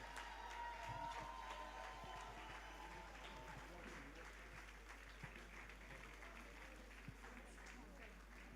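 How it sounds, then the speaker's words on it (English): Audience applause at an anniversary and grant award ceremony, a steady, distant-sounding patter of clapping that keeps going under a speaking voice. "let the applause keep going till she gets to the stage"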